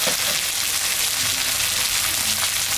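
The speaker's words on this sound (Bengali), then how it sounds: "বেগুনটা একটু ভাজা ভাজা হয়ে গেছে" Potatoes and eggplant frying in a pan for a curry, giving a loud, dense, unbroken sizzle close up, with faint stirring movement underneath.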